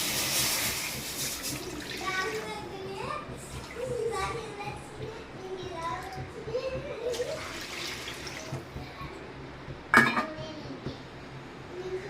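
Water goes into a pan of semolina roasted in ghee with cashews, almonds and raisins, a brief splashing rush followed by utensil clinks and a sharp metallic knock, with people talking over it throughout.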